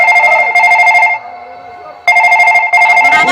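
A telephone rings loudly and close in repeated bursts, a steady electronic tone with a short pause between bursts, with no talk over it.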